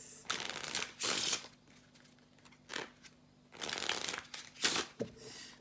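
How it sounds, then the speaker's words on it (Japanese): A deck of playing cards being shuffled for a close-up magic trick: several quick, crisp riffling bursts, close and clear, separated by short pauses, with no talk. "このカードをしっかりと真ん中の方に入れてですねしっかり混ぜます"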